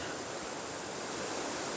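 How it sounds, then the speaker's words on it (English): Steady rushing splash of water spilling from a small pond overflow into a creek in a wooded state park near a waterfall, continuous and close, with no voices. "what you're hearing is actually an overflow for this little pond down here at the bottom"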